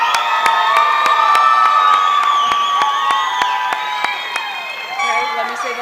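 Graduates of the Olde Columbine High School class of 2017 cheer at the end of their graduation ceremony, a loud crowd of whoops, shouts and whistles with scattered clapping throughout.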